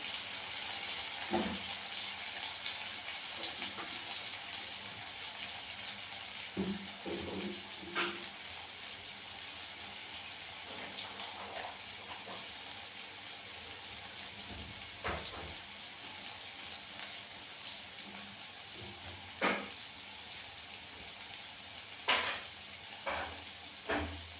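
Potatoes frying in a pan on a home kitchen stove, a steady, moderately quiet sizzle running throughout, broken by occasional clinks and stirring knocks.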